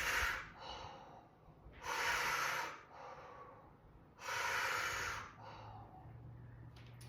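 Deep, forceful breaths in and out during a fascia exercise, three long loud exhales or inhales roughly two seconds apart, each with a hissing, snort-like rush of air, close to the microphone with quiet pauses between.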